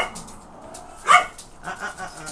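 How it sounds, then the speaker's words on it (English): Three small dogs play nearby, and one gives a sharp, close yip near the middle. Quieter yaps and scuffling follow in a short, busy stretch. "I have 3 little dogs barking in the background playing around."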